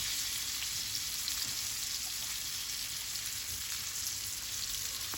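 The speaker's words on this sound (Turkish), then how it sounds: "bu yağda hepsini kızarttım" A steady, dense sizzle of breaded green beans frying in hot oil, continuous and close, with occasional small pops.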